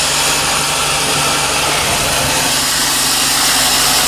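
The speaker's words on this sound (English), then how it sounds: "So this is with the engine starting and running." A 1991 Mercedes-Benz W124 230CE engine settles into a steady, loud idle close by, an even mid-low drone with a constant mechanical hum and no voices.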